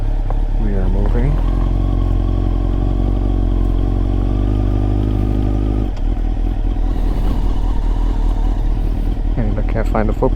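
A 2000 Honda CBR929RR sport bike rides along with a steady loud engine drone, close to the rider. A voice talks over it, and the engine note drops partway through.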